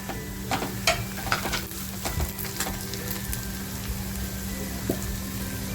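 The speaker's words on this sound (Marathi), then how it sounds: "कांदा साधारण लालसर झाल्यानंतर आहे ना जे सुकं खोबरं घेतलं आहे तेही मी याच्यात टाकून घेते" Onion, dry coconut and garam masala fry together in a pan for a spicy mutton curry, giving a soft continuous sizzle with a few stirring scrapes and clinks near the start. No one speaks.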